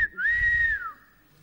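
A person whistling a single clear sustained note, close and fairly loud, lasting just under a second with a slight rise at the start and a drop at the end before fading out.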